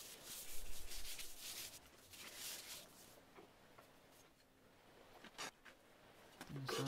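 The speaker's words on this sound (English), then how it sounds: "No, 280 grit. Take the filing marks out." A steel cleaver forged from a farrier's rasp being hand-sanded with 280 grit sandpaper to remove file marks, heard as close, rhythmic rubbing strokes that rise and fall in loudness.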